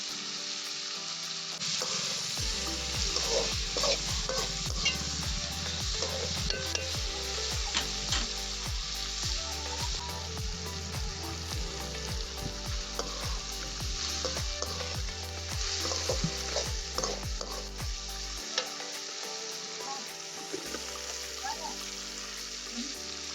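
Tomatoes sautéing in a pan for sundakkai vatha kuzhambu, a loud, dense, continuous sizzle with frequent stirring scrapes, close up and running almost the whole time before quieting near the end.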